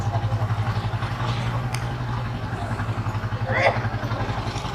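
A large motorcycle loaded with luggage rides through the narrow lanes of an old town, its engine putting out a steady low throb throughout. People talk over it, with a brief clatter partway through.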